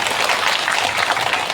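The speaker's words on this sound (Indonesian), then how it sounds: "Berikan tepuk tangan kepada Ibu Risma" An audience at a public gathering bursts into brief, dense clapping, a short, loud burst of applause.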